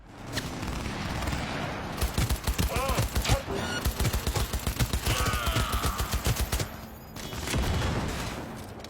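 Futuristic assault rifle fire in the video game Cyberpunk 2077, long rapid bursts of automatic shots in a fast steady rhythm, loud and close, with a short pause before another burst.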